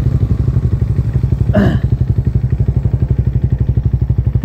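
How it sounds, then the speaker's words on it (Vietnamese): A Suzuki Satria motorcycle engine idles with a steady rapid putter throughout, loud and close, with a brief sharp clatter partway through. "nổ máy nè"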